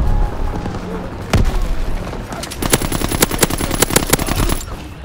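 A blunderbuss shotgun in Call of Duty WWII team deathmatch on a tiny map: one heavy blast stands out, then a quick, close series of sharp shots cracks over a low background din.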